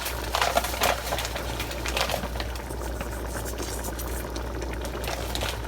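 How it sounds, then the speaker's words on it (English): Vegan chili bubbling in a pot on the stove, a soft continuous simmer of small pops and blips under a low steady hum. "Look at that bubbling."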